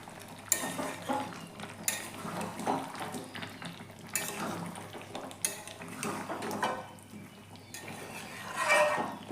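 Boiled potatoes being stirred into spiced chicken in a pan for a covered chicken dish, with repeated scraping and clinking of a spoon against the pan and soft background sizzle, close and fairly quiet.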